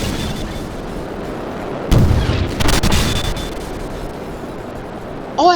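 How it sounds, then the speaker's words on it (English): Small bombs dropped in a warship combat video game set off a few booming explosions over a steady rumbling background, with a couple of louder bursts standing out and a brief electronic sound near the end. "I'm gonna try using little bombs."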